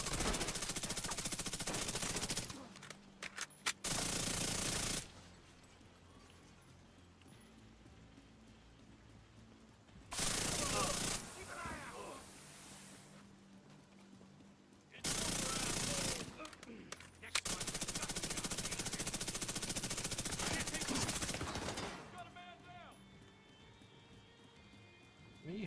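Bursts of automatic rifle fire in The Division 2 erupt in several long sustained volleys separated by quieter stretches, loud and close with dense rapid shots.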